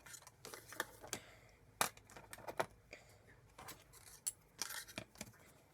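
Scissors snip through paper in quick irregular cuts, close and crisp, with some paper rustling, while an accordion-page matchbook is being made.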